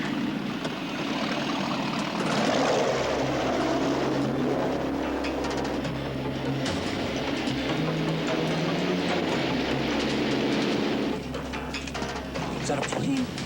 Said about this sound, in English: Is that a plane?